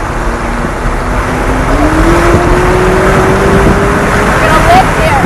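McLaren 570S accelerating down a race track straightaway, a loud, steady engine roar with a rising pitch as the car pulls hard, continuous throughout.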